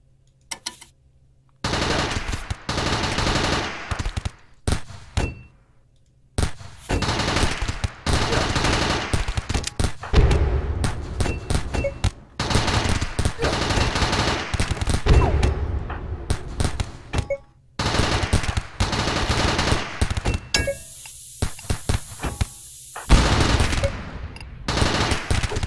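Gunfire rattles through a RimWorld battle in long, loud bursts of rapid automatic shots mixed with single cracks, near-continuous across the stretch with a few short gaps.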